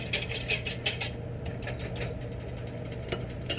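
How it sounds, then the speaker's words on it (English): Spatula scraping hot caramel in a pot, a series of quick metallic scrapes and clinks, close and fairly quiet, with irregular strokes that thin out toward the end. "Gotta scrape with my spatula too"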